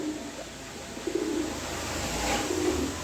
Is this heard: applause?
no